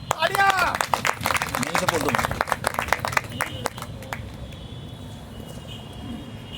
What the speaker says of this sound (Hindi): मैं उनके सम्मान के लिए जोरदार तालियां बजाऊं